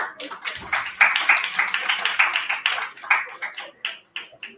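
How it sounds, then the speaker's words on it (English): A round of applause from attendees at an engineering college alumni meet, lively individual hand claps close by and fairly loud, thinning out with scattered claps toward the end. "a big round of applause for all of you"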